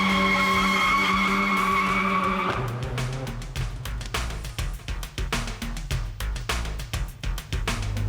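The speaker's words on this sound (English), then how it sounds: "Frankie Dettori and Richard Kingscote driving one of these around the Bahrain International Formula One circuit. They're noisy and they are quick." A race car runs flat out on the Bahrain International Formula One circuit. A loud, high engine whine holds for a couple of seconds, then gives way to a rough, pulsing roar close by.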